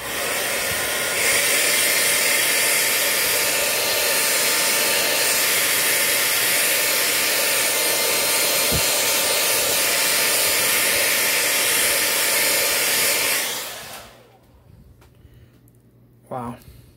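A hair dryer blows hot air onto the stiff shoulder joints of a saloon bartender action figure, a loud steady whooshing hiss lasting about thirteen seconds before it switches off.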